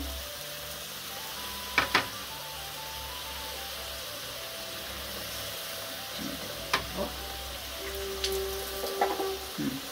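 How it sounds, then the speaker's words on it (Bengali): Turmeric, salt and spices frying in a pan for a rohu fish curry, giving a steady low sizzle throughout with a few faint clinks and scrapes, no talking. "মশলাটাকে এবার ভালো করে ভেজে নেব"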